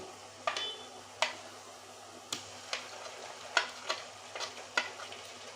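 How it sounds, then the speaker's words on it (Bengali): Onions fry in a pan for a chicken and potato curry, a soft low sizzle under sharp, scattered clicks and scrapes of a spoon stirring against the pan, quiet and close with no talk. "পেঁয়াজটা আমি লাল করে ভেজে নেব"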